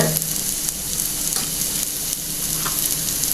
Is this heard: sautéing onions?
yes